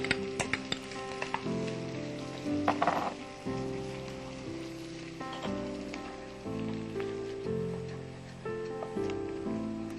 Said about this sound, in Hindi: जब ब्राउन हो जाएगा जीरा, तो हम इसमें प्याज डालेंगे।